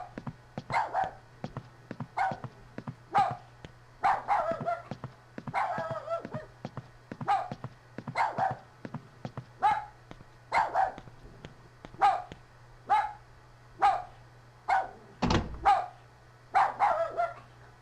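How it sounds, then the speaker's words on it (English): Dogs bark and bay in the horror video game Rule of Rose, a regular series of short, echoing barks about once a second over a low steady hum, with a heavier thud near the end. "with the distant barking and baying"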